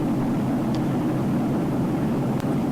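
The cabin of an airliner in flight toward Salt Lake City fills with a loud, constant low engine and air drone that never lets up, with no one speaking.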